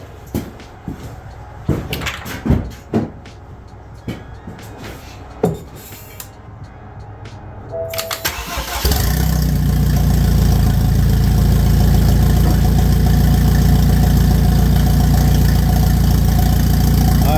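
BMW N20 four-cylinder fitted with a big turbo firing up after a few clicks and knocks, then settling into a loud, steady idle close by with no talking over it.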